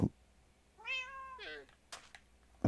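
A cat in the video game Minecraft meows twice in quick succession, clear and fairly close, with soft clicks and taps around it and no talk.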